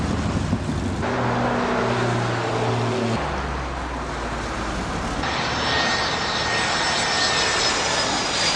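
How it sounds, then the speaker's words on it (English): A light airplane on final approach at Santa Monica Airport drones loudly and close with a steady engine roar and shifting pitch, wind-buffeted, with no voices. "watch the planes buck the wind and glide over the fence, stacking up on final approach"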